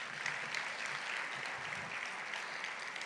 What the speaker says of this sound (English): Again, a round of applause for all of you.